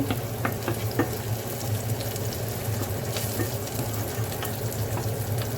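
Onions sautéing in a pan for a Jaffna-style egg omelette curry, giving a steady, moderate sizzle and crackle throughout with a few small clinks, and no voices.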